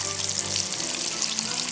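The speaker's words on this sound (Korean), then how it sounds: "마늘이 보시다시피 이렇게 맛있게 튀겨지고 있습니다. 버터에." Garlic fries in butter in a pan, a dense steady sizzle and crackle that stays close and fairly loud throughout, with no talking.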